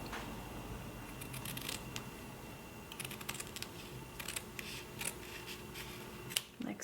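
Scissors snip paper parts for a handmade scrapbook, quiet, close, crisp cuts arriving in irregular clusters over a hushed room.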